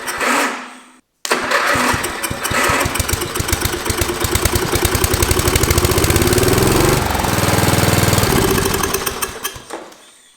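A 1986 John Deere R92 lawn tractor engine cranks briefly, cuts out, then catches and runs with a loud, close, rapid chugging that steadies into an even idle.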